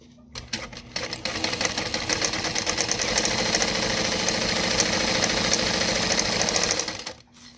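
Sewing machine running a long basting stitch to join two backpack pieces, a fast mechanical chatter that starts with a few short bursts, settles into a steady run and then stops, close and clear.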